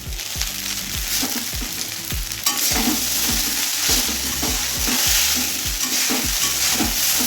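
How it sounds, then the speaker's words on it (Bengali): Fried potatoes go into chow mein stir-frying with onions, giving a bright continuous sizzle and quick rhythmic scrapes of a spatula against the pan, close and fairly loud. "এবার যে আলুটা ভেজে রেখেছিলাম আলুটা দিয়ে দিচ্ছি"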